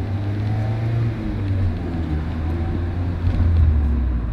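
A quiet rear-wheel-drive sports car idling at a standstill, a steady low engine hum with faint variation and no talk over it.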